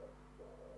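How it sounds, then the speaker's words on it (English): A pigeon coos close by indoors, a soft, low, brief call over a faint steady background hum. "That pigeon sounds like it's literally in my room."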